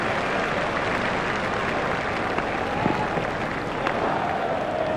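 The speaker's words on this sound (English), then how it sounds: "Crowd are standing and applauding." A cricket crowd at a T20 World Cup match between Kenya and South Africa stands and applauds, a dense, steady roar of clapping that fills the whole stretch, with a few louder claps poking through.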